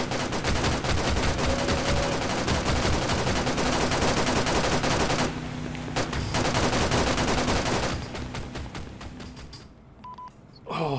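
Dense, rapid gunfire and explosions from a chaotic mech battle in the video game Arma 3, loud and continuous with brief dips, heard without talk.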